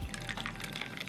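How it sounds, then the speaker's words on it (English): Perrier sparkling water poured into a mixed drink, a soft, faint trickling fizz running continuously for about a second with no talking. "we'll put a little bit of Perrier"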